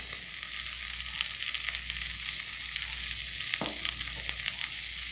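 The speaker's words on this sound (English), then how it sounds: "And I'm gonna stir this." Food sizzles steadily in a pan with coconut, black pepper and salt while it is stirred, a continuous close frying hiss broken by scattered scrapes and clicks of the spoon, with no talking.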